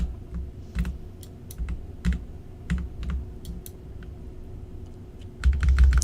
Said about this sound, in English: it is a good sounding keyboard